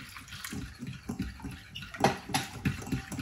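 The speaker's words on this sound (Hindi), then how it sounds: "यहाँ पे तो मैं पानी और ऐड कर दूंगी।" Water is poured into a lukaimat dough mixture with milk powder, a close, continuous splashing trickle that rises and falls, with no speech.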